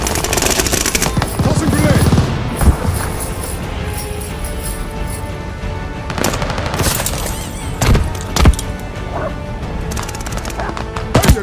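Browning Auto-5 (Gracey Auto) shotgun fire in Call of Duty Vanguard on PS5, a string of loud, sharp blasts spaced irregularly over a dense bed of in-game battle noise, with speech mixed in.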